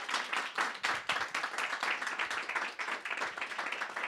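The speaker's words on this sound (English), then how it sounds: "we should give her a big round of applause" A small audience at a play reading gives a round of applause for a fellowship winner, fairly close individual claps forming a lively, uneven patter at moderate volume.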